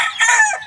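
Backyard chickens with newly hatched chicks give a short, close, high-pitched call, bright and alone, lasting under a second.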